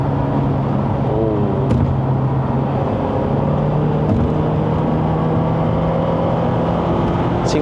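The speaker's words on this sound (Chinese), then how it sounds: "一直把它维持在4500转，现在应该是3号档。" Steady engine drone from a 2014 Proton Perdana 2.4 held near 4500 rpm in third gear in sport mode, a sustained droning hum heard from inside the cabin with no talk.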